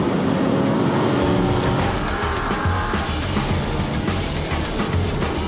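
A BMW M3 and a 450-horsepower Porsche GT3 RS race hard, engines roaring loud and continuous with tire squeal and rushing road noise throughout, close up and with no talking.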